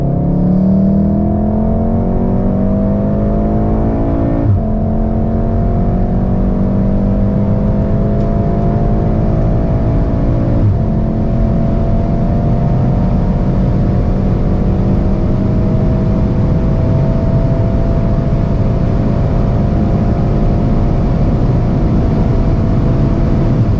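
A Volkswagen Golf 8 R accelerates hard from 100 to 200 km/h on the Autobahn, its engine note rising steadily with brief dips at gear shifts, loud and continuous from inside the car over road and wind roar.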